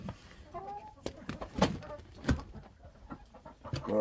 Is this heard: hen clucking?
yes